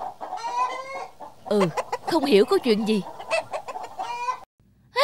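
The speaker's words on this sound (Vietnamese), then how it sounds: "sao hôm nay đàn gà kêu ầm ĩ lên thế nhỉ?" Chickens cluck and squawk excitedly in a burst in an animated cartoon, mixed with a person talking over them, then the noise cuts off abruptly.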